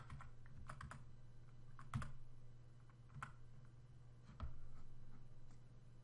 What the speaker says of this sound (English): We'll use the arrow keys to get it in place.